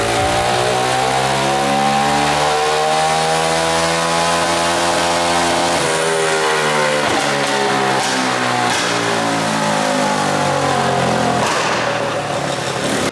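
A 125cc turbocharged go-kart engine screams through a dyno power run, its loud, buzzy tone climbing steadily in pitch over about six seconds, then dipping and rising again in a second sustained high-rev pull with no talking.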